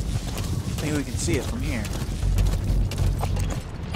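A horse's hooves clip-clop in the video game Metal Gear Solid V, a quick rhythmic patter mixed with game ambience. Someone talks over it for much of the time.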